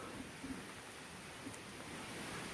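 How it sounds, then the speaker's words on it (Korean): A mountain stream flows beside a creek bank in a high-altitude Gangwon forest, its steady, even wash of running water continuous and fairly close, with no speech. "물소리 들리죠?"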